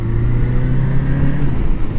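A 1981 Honda CB750C motorcycle engine runs steadily at a warm idle after carb jetting and a fixed knock, giving a loud, continuous low hum with no talk.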